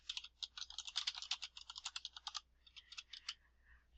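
Typing on a computer keyboard, a quick run of close, crisp key clicks that pauses briefly and then resumes with a shorter burst.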